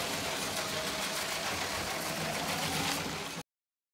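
A Lego City passenger train 60197 motor runs faster, a steady whirring electric drone with a rolling rumble underneath, continuous and close for about three and a half seconds before cutting off abruptly.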